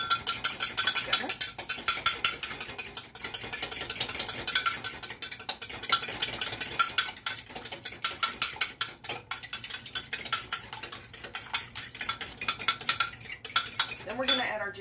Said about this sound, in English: stir this milk and egg